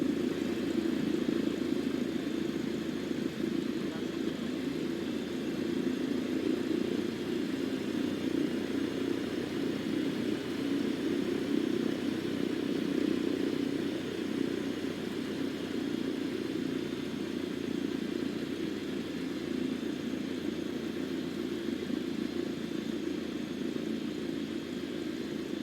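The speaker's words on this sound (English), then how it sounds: "Apply full power and I'll walk you through the takeoff as we go." A small airplane engine holds full power during takeoff, a steady, loud droning roar heard from inside the cabin, continuous and unchanging without talk.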